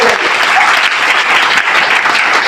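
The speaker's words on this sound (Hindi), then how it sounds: "एक बार जोरदार तालियां मिलेंगी" Loud, dense audience applause fills a hall during a talk about RCM business, a continuous roar of many hands clapping at steady intensity throughout.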